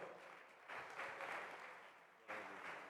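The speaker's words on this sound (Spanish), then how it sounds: "Dele palmas al Señor." Church congregation at a Honduran Central American seminary applauds in praise, a dense steady clapping that swells twice, with a faint voice underneath.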